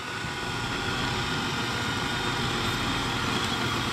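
Two electric chainsaws race each other, sending out a continuous, even whine and buzz that holds steady at moderate loudness throughout.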